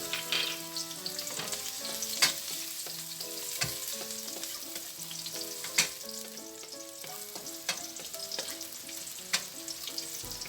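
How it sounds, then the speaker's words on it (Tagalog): Garlic sautés in a hot pan for bihon guisado, a steady sizzle and crackle under stirring scrapes, with soft music playing behind throughout. "idagdag at isutay natin ang ating garlic"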